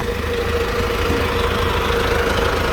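A Toyota 6FD30 diesel forklift, a 3-ton model with a 3-metre mast and manual gearbox, idles steadily nearby with a continuous low, rumbling, slightly knocking engine drone and no talk.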